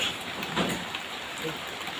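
Light rain keeps up a steady hiss of falling drops, broken by a few faint bumps and soft sounds in the background.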